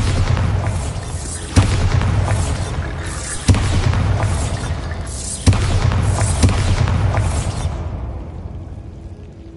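Bombarda blasting-spell explosions from Hogwarts Legacy: three loud, sharp booms about two seconds apart over a continuous heavy roar, which thins out toward the end.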